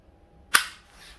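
Trigger break and reset of an EMG Hudson H9 gas blowback airsoft pistol, a single sharp close click that snaps out of near silence and quickly fades.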